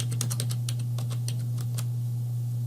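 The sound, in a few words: typing on a computer keyboard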